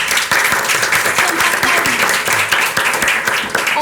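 An audience of families and children applauds at a participatory family concert after a song, a dense, steady clapping that fills the room from start to finish with a few faint voices mixed in.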